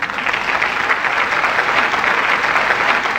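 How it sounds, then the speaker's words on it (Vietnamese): Loud, sustained studio-audience applause cheers on 26 contestants on the Vietnamese TV quiz show Đi tìm ẩn số, a dense, even roar of clapping that runs throughout with no talking. "Một tràng pháo tay cổ vũ tinh thần 26 thí sinh"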